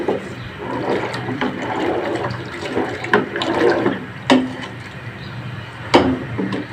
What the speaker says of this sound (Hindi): अब हम इसमें पानी 1 जग और शामिल करेंगे।